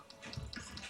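Water flowing in the video game Terraria gives a soft, continuous splashing gurgle, faint and steady throughout the short stretch.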